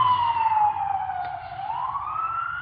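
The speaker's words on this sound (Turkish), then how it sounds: "Ambulans geçerken." A wailing ambulance siren sweeps down and back up in pitch as it goes by, loud and close over low traffic rumble.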